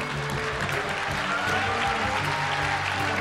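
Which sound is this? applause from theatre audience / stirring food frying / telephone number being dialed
applause from theatre audience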